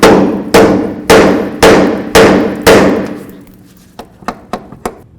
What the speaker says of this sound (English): Now we're going to use our hammer and bonk right along this area here.